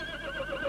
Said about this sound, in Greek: Κοίταξε, βλέπεις αυτό το μεγάλο άλογο?